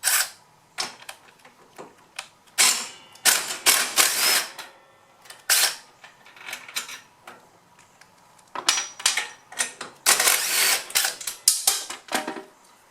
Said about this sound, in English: on each side you've got just 2 bolts that hold the arm in place, and once we loosen those